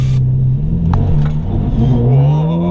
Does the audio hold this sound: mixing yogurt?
no